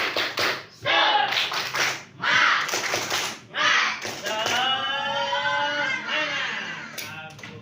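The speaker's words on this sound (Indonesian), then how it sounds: "Tepuk tangan. Tepuk semangat." A classroom group of students claps hands together in a short burst of loud, rhythmic claps, followed by voices chanting and talking over the noise.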